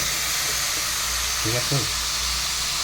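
Ridge gourd and potatoes fry in a pan with a steady, close hiss and sizzle, and a voice speaks briefly over it.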